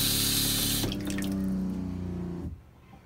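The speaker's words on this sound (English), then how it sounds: "if we try flushing the toilet, we'll hear the pump turn on because it's running the water." Water rushes loudly into an RV toilet bowl aboard a 2018 Coachmen Freelander 20CB Class C motorhome as the flush runs, with a steady low pump hum underneath that continues after the rush drops, then fades out near the end.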